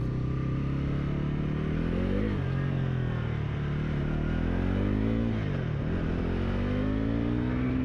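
2025 Bajaj Pulsar NS400Z motorcycle engine, a loud close exhaust note that climbs through the revs, dips, and climbs again in sustained rises, with no talk over it.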